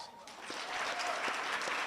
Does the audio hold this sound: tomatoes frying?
no